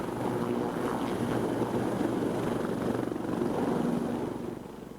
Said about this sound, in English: The Bell AH-1Z Viper, most advanced attack helicopter in the world.